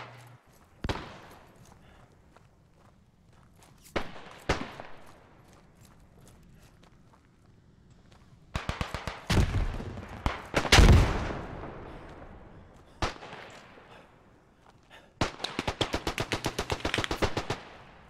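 Gunfire in the WW1 shooter game Beyond the Wire: scattered single rifle shots, then bursts of rapid machine-gun fire and a heavy blast, with footsteps between volleys at varied distances.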